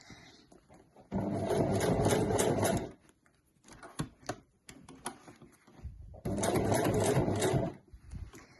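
A sewing machine stitches the handle of a weekender bag in two loud steady runs of a couple of seconds each, with small clicks and fabric handling between them, no voice.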